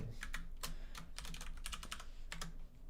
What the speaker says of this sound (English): trying to use keyboard shortcuts more often here